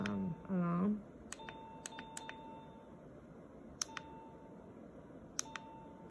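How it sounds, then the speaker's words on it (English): Electronic beeps from a kids' digital alarm clock: several short button tones in quick succession, with one longer steady beep, over a quiet room after a brief voice. "After that, there's a ringtone."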